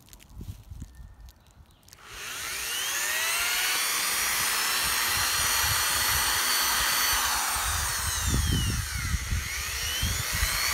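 A power drill whines loudly and steadily after a brief quiet moment, drilling a spacer for a face shield, running continuously at high speed with a rough, grinding edge.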